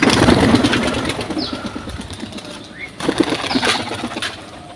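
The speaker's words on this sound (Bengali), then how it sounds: "তো আমরা কবুতরগুলা উড়াই দেই।" Young pigeons released to fly on a clear morning: a burst of flapping wings and pigeon calls up close, easing off, then a second flurry of wingbeats, with an engine humming faintly behind.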